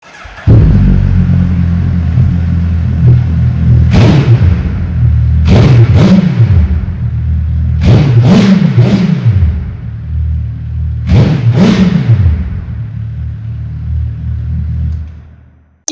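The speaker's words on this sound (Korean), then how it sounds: "이제 머플러 소리 한번 들어보겠습니다." A 2024 Suzuki Hayabusa 1340cc motorcycle idles with a deep, steady exhaust rumble close by, broken by several sharp throttle blips from the muffler that come singly and in quick pairs.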